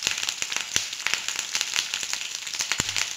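Curry leaves drop into hot oil with garlic and red chillies for onion chutney, setting off rapid, sharp crackles and pops over a constant close sizzle.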